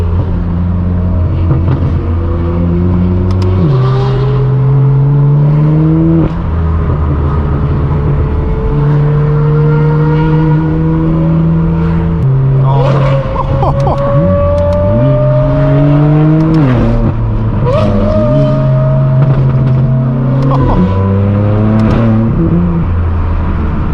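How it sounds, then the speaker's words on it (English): Straight-piped BMW M4 F82 exhaust popping and rasping through a series of loud, close downshifts, each rev blip stepping the pitch up before the engine note settles lower again, repeated several times with no talk. "Those downshifts are heaven sent."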